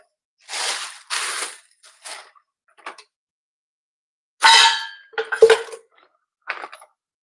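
Several sharp metallic clanks and clatters of cookware as a griddle pan is set on a gas stove to heat, scattered in short bursts with silent gaps between them.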